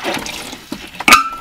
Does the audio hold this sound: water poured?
yes